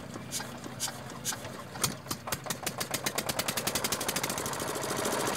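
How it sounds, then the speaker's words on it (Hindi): A Field Marshal 8hp diesel pump set engine runs close by, its rhythmic firing knocks starting uneven and then steadying into a fast, regular chugging as the governor speed is adjusted. "अब यहाँ पे इस इंजन की स्पीड को आप चेक कर सकते हैं"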